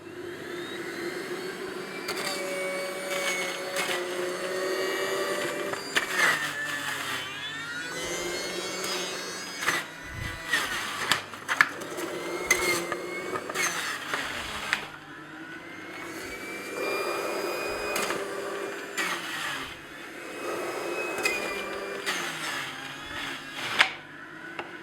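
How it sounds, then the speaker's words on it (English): A centrifugal juicer grinding carrots, a steady loud whirring motor whine with rough grating and chopping bursts as pieces are pushed in, running continuously for about twenty-five seconds. "Carrots, like oranges, are pretty easy to juice. So starting with the centrifugal."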